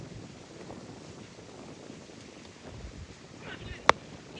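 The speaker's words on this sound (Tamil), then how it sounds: "காற்று செம்ம காற்று அடிக்குது" Strong gusty wind blows steadily across an outdoor cricket ground, a broad rushing roar from start to finish, with a sharp click near the end.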